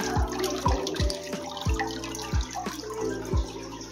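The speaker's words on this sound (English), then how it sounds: "A little water feature here." Water trickles and drips steadily from a water feature at the Madonna Inn hotel in San Luis Obispo, a close, rhythmic patter of drops over a continuous splashing wash, with no talk.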